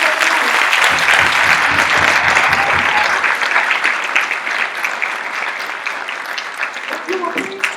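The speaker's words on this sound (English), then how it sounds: "Can we give ourselves, our elders, our families, our community, another rousing applause?" Community event audience gives rousing applause, a loud, full roar of many clapping hands that gradually eases off, with a low murmur and a voice emerging faintly near the end.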